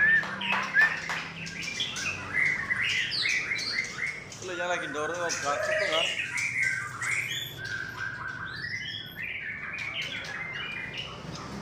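A murai, or white-rumped shama, sings at a bird kiosk, a loud, varied stream of whistles, chirps and squawky phrases close to the microphone, with quiet talk in the background.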